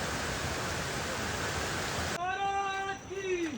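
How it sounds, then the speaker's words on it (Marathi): Water roars steadily as a waterfall crashes at Rangana fort on the Kolhapur–Konkan border, a dense, loud wash of noise for about two seconds before a high, tonal voice-like sound takes over. "तर पाण्याचा आवाज जास्त आहे"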